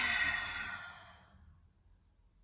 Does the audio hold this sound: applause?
no